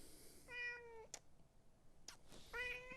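A house cat meows twice, clear drawn-out calls separated by a pause, close and fairly quiet in a still room with no talking.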